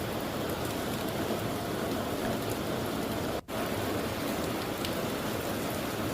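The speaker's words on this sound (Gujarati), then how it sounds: "ડાંગમાં પણ ભારે વરસાદ જોવા મળી રહ્યો છે." Heavy monsoon rain falls in Dang, Gujarat, as a dense, steady hiss that continues unbroken except for one momentary dropout partway through.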